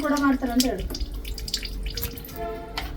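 Small cleaned sea fish from Mangalore are rinsed under running tap water, a splashing, trickling wash close by with someone talking over it.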